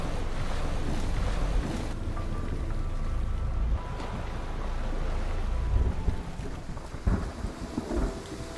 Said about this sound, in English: Before we know it, it's pouring. But we keep dancing. Our clothes are soaked. The waves rise and wash over our legs.